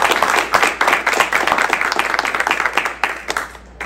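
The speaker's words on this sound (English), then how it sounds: "we give our colleague, Representative Felix, a round of applause, please?" A press conference audience gives a loud, close round of applause for a state representative, with brisk, dense clapping throughout that tapers off at the end.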